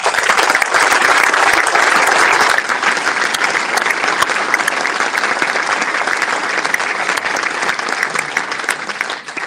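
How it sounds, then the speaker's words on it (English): A hall audience at a football supporters' trust AGM breaks into loud, sustained applause, a dense wash of clapping that stays strong throughout and eases slightly toward the end. "So a big round of applause, please"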